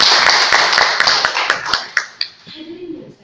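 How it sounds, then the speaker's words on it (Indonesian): Scattered applause from a small audience during a speech on population and family planning, a few distinct claps thinning out and dying away, ending with a brief low voice. "Mari kita beri tepuk tangan kepada kinerja BKKBN."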